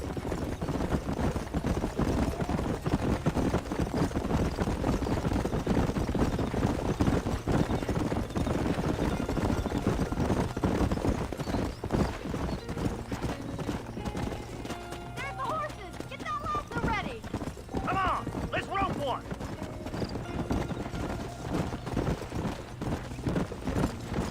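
Horse hooves clip-clop in Red Dead Redemption Remastered, a quick steady rhythm of close hoofbeats that eases off midway as a voice talks over the rest.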